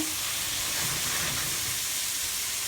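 Eggplant sautéing in a pan, a dense, steady hiss and sizzle that stays close and fairly loud throughout without pause.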